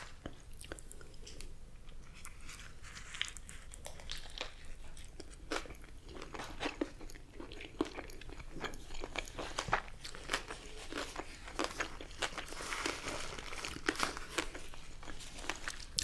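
McDonald's fries are eaten close up, with soft, irregular chewing and crunching bites over quiet ASMR ambience and no talking.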